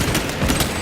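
Cannon fire in the Warhammer 40K Space Marine 2 video game, a loud, dense and continuous booming barrage filling the short moment.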